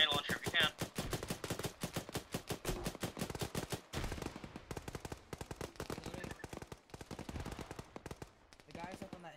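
Machine gun fire in Arma 3's Gulf War Desert Storm setting, long rapid bursts of sharp repeated shots broken by brief pauses, loud and close.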